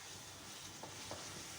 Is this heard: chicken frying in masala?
yes